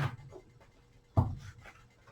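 A deck of tarot cards is shuffled by hand in two short, papery rustling bursts, close and quiet, with a pause between them.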